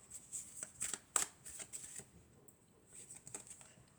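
Tarot cards are slid and drawn from piles with soft, papery flicks and swishes, several quick strokes in a row, close and quiet in a still room.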